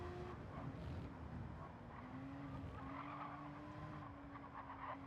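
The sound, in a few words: race cars on track at Le Mans, Porsche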